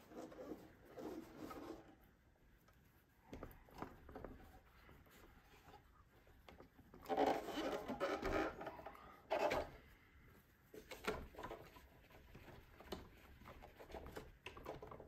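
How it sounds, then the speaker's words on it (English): A wet cloth wipes over the body of a Gibson ES-335 guitar, producing soft rubbing and squeaky friction strokes in uneven bursts, with a louder stretch of scrubbing midway and occasional light knocks against the wood. "I'm going to start with the wet cloth to polish it up"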